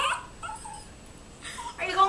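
A husky puppy gives short, high whimpers and yips at close range, with quiet pauses between them and a person talking nearby.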